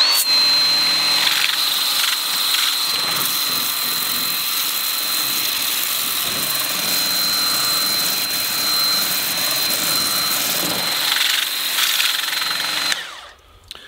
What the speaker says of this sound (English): Here's the turbo nozzle.